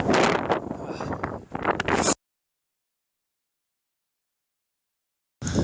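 Gale-force wind on the Seonjaryeong mountain trekking trail in freezing cold, roaring and buffeting loudly against the microphone for about two seconds before the sound drops to dead silence, then briefly returns at the end.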